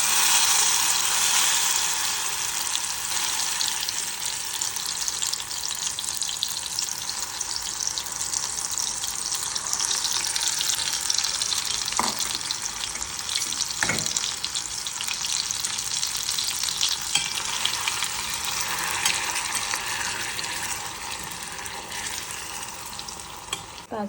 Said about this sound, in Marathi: तेल छान गरम झालं की आपलं पेस्ट टाकून द्यायची